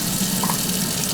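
Tap water gushing steadily into a pot to rinse rice, a loud continuous rushing stream from a kitchen faucet close by.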